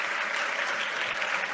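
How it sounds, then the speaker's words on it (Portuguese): Brief, steady wash of audience applause at an arts training event, moderately quiet and uniform, a dense blur of clapping without distinct individual claps. "Eu peço uma salva de palmas."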